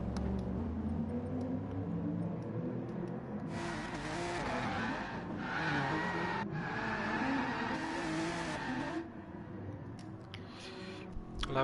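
In a racing video game, a race car heads out onto the track with a steady engine drone that swells into louder revving and tire noise midway, then settles back down.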